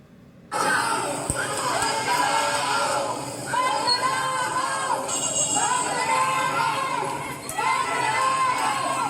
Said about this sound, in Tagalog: Sigaw ng mga protesters, Diskaya magnanakaw.